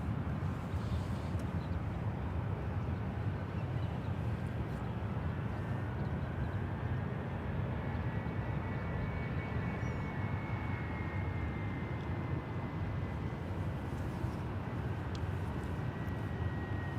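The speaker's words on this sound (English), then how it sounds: "American Airlines Airbus A321 now touching down on the 28s." An American Airlines Airbus A321 touches down on runway 28 at San Francisco International, a steady broad jet roar that fills the whole stretch at moderate distance, with a faint high engine whine running through the middle.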